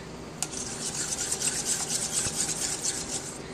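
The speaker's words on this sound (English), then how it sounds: "all I'm doing is just stirring this tomato paste in" Stirring tomato paste into a chocolate chili BBQ sauce in a pot, a close, steady rasping scrape repeating in a loose rhythm with no voices.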